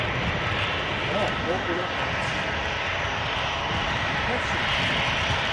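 An easyJet airliner arriving at Edinburgh airport gives a steady, loud engine roar that fills the whole stretch without a break, with a voice speaking briefly over it.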